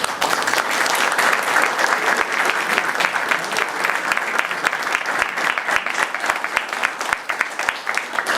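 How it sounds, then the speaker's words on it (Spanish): A hall audience at a commemorative event in Nogoyá, Entre Ríos, breaks into sustained applause, dense and steady clapping that fills the whole stretch at close range with no speech over it. "A él, por favor, un aplauso."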